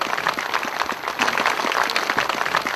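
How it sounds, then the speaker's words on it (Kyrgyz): An audience at a Mawlid celebration in Moscow breaks into applause, a dense, continuous patter of many hands clapping at close range for a few seconds, with no one speaking. "Кол чабалар менен."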